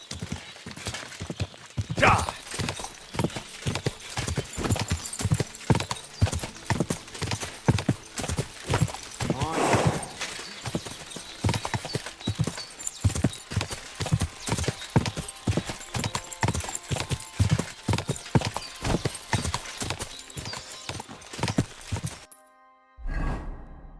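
Horse hooves clip-clopping steadily in the video game Kingdom Come Deliverance 2, a long run of even, close thuds with a brief whinny partway through, ending in a sudden stop.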